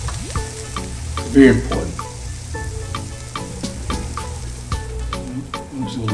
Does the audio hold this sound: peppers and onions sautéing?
yes